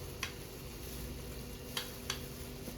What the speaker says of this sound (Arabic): ونديله تقليبه حلوه كده.